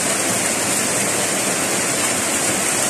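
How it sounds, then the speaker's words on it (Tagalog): Rushing water on a farm during heavy rain, a dense, continuous broadband wash of flowing water, loud and unbroken with no voices. "tumaralo yung tubig eh."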